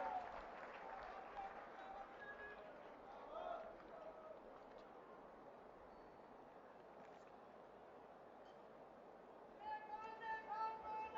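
Outdoor BJP rally crowd in Jagadhri applauding to welcome Chief Minister Manohar Lal, a steady wash of distant clapping and crowd noise with some voices mixed in, swelling slightly near the end.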